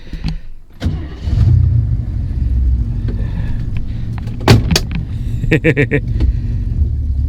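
A 1967 AMC Ambassador barn find, running on a fuel bottle taped to the fender after 14 years, cranks and idles with a loud low engine rumble, then pulls away, with clicks and knocks over the steady hum.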